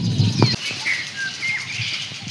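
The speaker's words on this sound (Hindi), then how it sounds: "मैंने देखा कि खेत में एक चिड़िया पड़ के वहाँ चली गई।" A bird takes off in a farm field, with a quick flutter of flapping wings up close followed by a few thin chirps against a quiet outdoor background.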